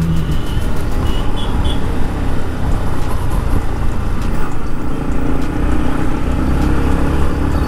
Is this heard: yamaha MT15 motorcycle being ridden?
yes